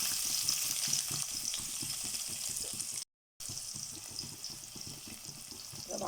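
Chopped onion, bay leaves, curry leaves and spices sauté in a pan for a mixed sprouts curry, giving a steady crackling sizzle with no talk, broken by one short gap midway.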